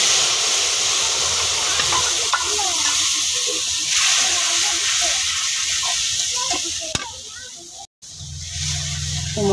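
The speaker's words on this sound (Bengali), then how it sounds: "তো মশলাটা আমি ভালো দিয়ে কষাই নিই।" Spices sizzle and crackle steadily in a small amount of hot oil while being stirred in a pan, a continuous close frying hiss with scraping, and a voice talking over it.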